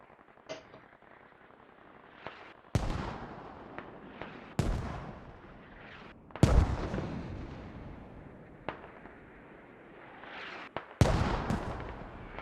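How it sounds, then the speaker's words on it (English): Mortar shells slam into a hilltop in a Squad video game battle, a string of sharp, loud detonations spaced a few seconds apart, each with a rumbling tail, some close and others more distant. "Now we're getting mortars on top of the hill"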